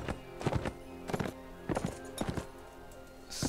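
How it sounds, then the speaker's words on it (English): Hooves clip-clop in rhythmic bursts as a horse walks through town streets in Mount and Blade: Warband, close and clear with steady background game ambience. "And you're on a horse somehow."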